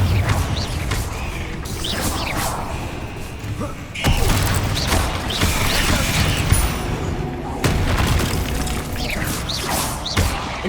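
In the video game Hogwarts Legacy, the Bombarda spell sets off explosions amid busy combat: repeated booms, crashes and thuds, with clattering mechanical effects and spell sounds layered throughout.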